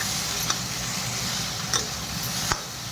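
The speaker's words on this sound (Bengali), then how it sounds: "আলু দিয়ে এটা শুকনো শুকনো করে ভাজা করছি" Potatoes dry-frying in a pan, a soft steady sizzle with a few sharp ticks of the spatula stirring at intervals, close and fairly quiet.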